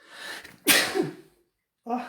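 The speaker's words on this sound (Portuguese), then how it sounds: "A gente, quando precisa espirrar, não tem como fugir disso." One sharp human sneeze bursts out close and loud, a quick intake then explosive release, in an indoor setting, followed after a short silence by a voice starting to speak.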